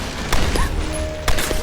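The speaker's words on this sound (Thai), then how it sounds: "เฮ้ย เสียงปืน" A few sharp bursts of gunfire crack over a dense, noisy background of Tomb Raider game action, two louder shots standing out close together.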